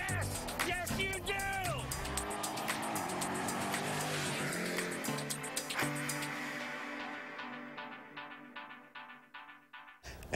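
A Jeep Grand Cherokee Trackhawk with a Hellcat engine roars on a racetrack, revving up and down in loud, sweeping surges with excited voices over it, then easing to a steadier, fading drone.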